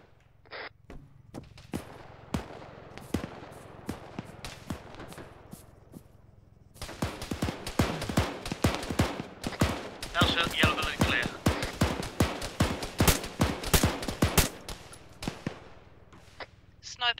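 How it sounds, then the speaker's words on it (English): Gunfire from a shooter in a yellow building: sharp shots crack in a rapid, irregular series, sparse at first and then dense bursts, with voices speaking between them. "if somebody's shooting at me and I can't see where from"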